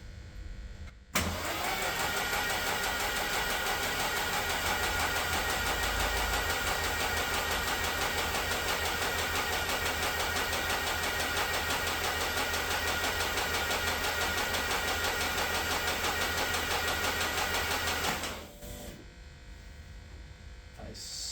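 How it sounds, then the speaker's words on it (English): A 2024 race engine cranked over on the starter to build oil pressure, a steady continuous whir and drone lasting about seventeen seconds, close and loud, stopping abruptly, with no talk. "We can spin it over, see what we get in terms of oil pressure."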